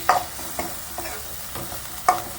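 Spiced onions with chilli and cumin powder being stirred in a pan for a Bengali katla fish curry, a few distinct scraping strokes of the spoon over a soft low sizzle, close and fairly quiet.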